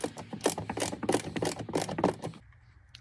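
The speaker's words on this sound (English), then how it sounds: "there is one 10mm bolt right there," A ratchet clicks in rapid, repeated bursts while a 10mm bolt is loosened inside a Toyota Tacoma dashboard, close and fairly loud, then stops.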